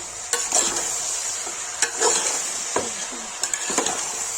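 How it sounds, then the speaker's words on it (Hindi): Chicken sizzles in hot oil with fried onions in a pan for a Kashmiri-style chicken curry, a steady frying hiss broken by several sharp scrapes and stirring knocks of a spoon, heard up close without talk. "फिर चिकन डाल देंगे"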